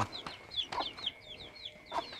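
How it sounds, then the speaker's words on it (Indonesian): Chickens cluck softly and repeatedly, with short, quick calls in an uneven rhythm against quiet background noise. "ini ada ayam"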